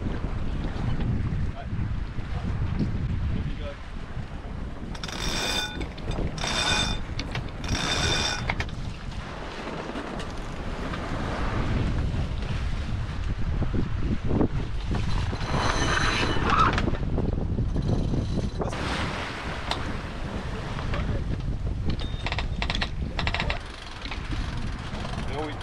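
Sails flapping on a sailboat during a gybe, mostly the genoa with some mainsail, a series of loud cracking snaps amid strong wind buffeting, wave noise and the boat's rushing hull throughout.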